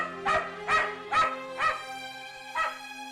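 A cartoon dog gives five sharp, evenly spaced barks, close and fairly loud, with short gaps between them and no talking.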